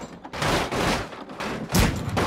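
A cannon in the BeamNG driving game fires a burst of several loud booming blasts with noisy crackle. A heavier thump comes near the end.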